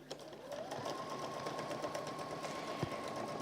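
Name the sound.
sewing machine stitching cork fabric bowl edge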